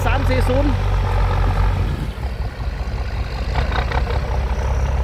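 Heavy diesel engine of a New Holland 8340 tractor, one of a pair of large tractors pushing termite mound soil in a field for sugarcane planting, rumbles loud and steady throughout, dipping slightly midway, with someone talking over it.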